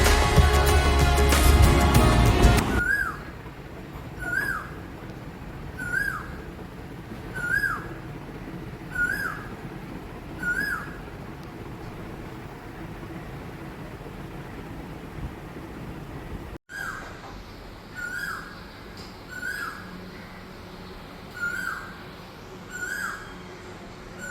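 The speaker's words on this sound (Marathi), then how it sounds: "आणि आता कोकिळेचा पण गोड आवाज तुम्हाला ऐकवते" An Asian koel sings in the morning, a series of repeated rising calls spaced a couple of seconds apart, moderately near, after a brief loud burst of noise at the start. The calls pause briefly and then resume.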